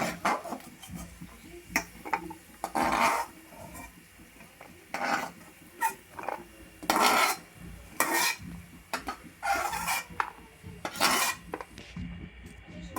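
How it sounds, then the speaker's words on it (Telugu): Vermicelli frying in ghee in a pan over low flame while being stirred, giving repeated bursts of scraping and clinking from the spoon against the pan with a faint sizzling underneath, close and fairly loud. "ఇదే నెయ్యిలో నేను సేమియాలు కూడా ఫ్రై చేసుకుంటున్నానండి"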